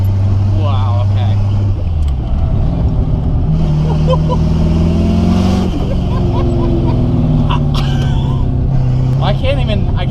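Rolls Royce engine revving and accelerating under load, its droning pitch rising and dipping between shifts, heard loud from inside the cabin with people talking over it; any turbo whistle or blow-off hiss is hard to pick out.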